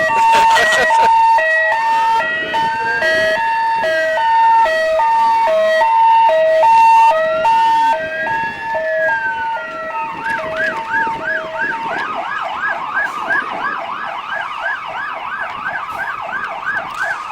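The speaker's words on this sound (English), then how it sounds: "What would a parade be without sirens," Loud fire truck sirens wail continuously at a Veterans Day parade in New Castle, first a slow rising-falling tone alongside a two-tone hi-lo pattern, then a fast yelping warble, with crowd noise underneath.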